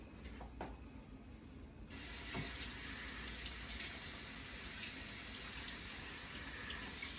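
Tap water pours into a kitchen sink as a packaged food item is rinsed while cooking stew peas and dumplings, a steady close hiss and splash that starts after a few faint knocks and keeps running.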